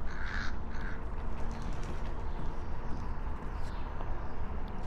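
In the video game Thief, a crow caws twice in quick succession, moderately near, over a steady ambient background hum.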